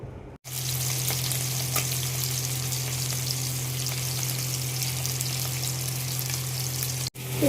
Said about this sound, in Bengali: এখানে মাছ ভেজে নিলাম,